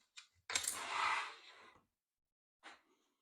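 Steel burnisher drawn along a scraper edge to turn the burr, giving a short click, then a longer scraping swipe, then a final brief clack, all close and quiet against silence.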